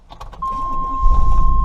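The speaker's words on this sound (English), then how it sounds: "we're going to turn on the car" A Chevy Silverado truck engine starts up with a whirring crank, then settles into a low, steady rumble close by. No one speaks.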